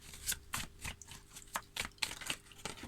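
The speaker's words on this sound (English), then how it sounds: "just do another couple of shuffles" Tarot cards are shuffled by hand in a quiet room, giving a run of soft, quick riffling and slapping bursts at an irregular rhythm, close and faint.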